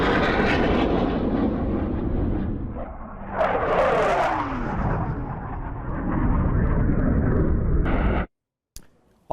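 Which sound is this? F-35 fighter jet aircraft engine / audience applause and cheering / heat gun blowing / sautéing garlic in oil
F-35 fighter jet aircraft engine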